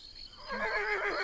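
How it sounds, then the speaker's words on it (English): A horse whinnies loudly and close in a horror short film, a rising then falling neigh lasting about a second with no talk over it. "It's a horsey."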